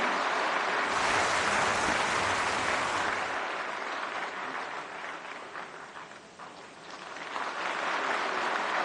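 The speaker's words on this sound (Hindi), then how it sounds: "प्रधानमंत्री जी के लिए जोरदार तालियां" Loud, dense applause from a large audience honouring the Prime Minister at a ceremony marking Pandit Madan Mohan Malaviya's birth anniversary, sustained throughout with a brief dip before swelling again.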